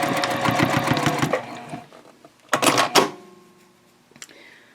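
Sewing machine running a short burst of stitches on a shopping bag seam, then stopping, followed by a couple of brief clunky backstitch bursts and small mechanical clicks, close and moderately loud.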